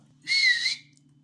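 A single short whistle, clear and high-pitched with a slight downward bend, against a faint low hum, whistled to a pet budgerigar.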